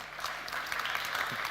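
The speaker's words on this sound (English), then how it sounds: "So please welcome with a big round of applause." Brief, fairly faint burst of audience clapping at a startup pitch event, a dense patter of many hands in a hall.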